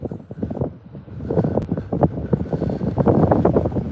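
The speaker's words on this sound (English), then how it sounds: "Now it's windy and cold." Strong cold wind buffets the microphone at the sea arch in Iceland, rumbling and gusting steadily and loud throughout, with no voices.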